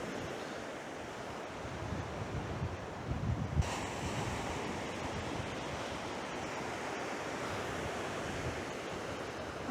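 Sea waves wash against an eroding stretch of coast, a steady broad roar of surf mixed with wind buffeting the microphone, continuous and fairly loud, with no voices.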